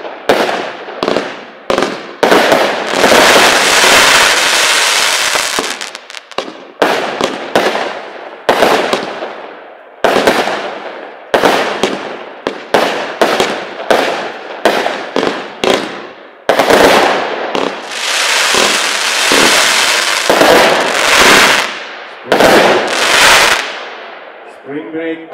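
A NICO 36-shot fireworks battery with a 40 m effect height and a 35-second duration fires loud, rapid bursts and crackling reports in dense clusters, separated by brief pauses.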